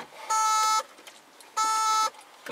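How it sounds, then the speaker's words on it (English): Two long, loud electronic beeps sound about a second apart, a harsh warning tone repeating from the dashboard of a Datsun 280Z. "Stop that infernal beeping!"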